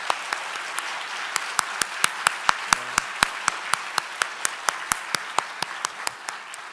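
A church congregation at a dedication thanksgiving service applauds to welcome two elders, with sustained moderate clapping and a steady series of sharp, evenly spaced loud claps punctuating it.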